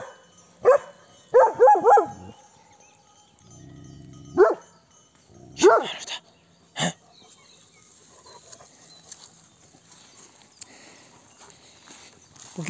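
Dogs on a livestock farm bark in several short bursts, fairly close, with quiet gaps between them and a soft background of insects and faint rustling.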